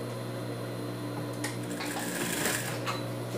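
A sewing machine runs steadily, stitching around a small felt-lined dog shoe, with a continuous motor hum and a busier rattling burst midway through.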